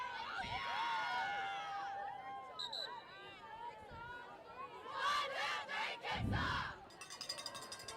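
A girls varsity soccer team shouts a cheer on the field, with high rhythmic chanted calls and crowd noise swelling and dropping over several seconds.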